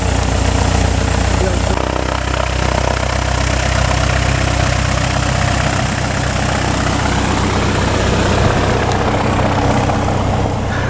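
A small airplane's engine runs at a steady idle, a loud continuous drone with propeller rumble that holds for the whole stretch, with no voices clearly heard.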